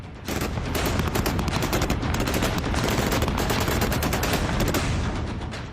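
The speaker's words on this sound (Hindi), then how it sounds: "जमीन पर बारूदी धमाके हैं, बेतहाशा मिसाइलें बरस रही हैं। गोलियों के बीच टैंक से गोले दागे जा रहे हैं।" Dense, continuous gunfire in an Afghanistan war zone, rapid machine-gun bursts packed into a relentless crackling barrage that stays loud and close throughout with no voices.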